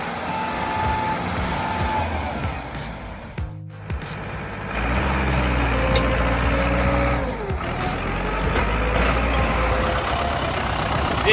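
A Ford 6600 tractor with a 4-cylinder diesel engine rattles and strains while stuck deep in mud with its trailer, a loud, continuous engine roar that briefly dips before surging back to a heavy, steady labouring drone.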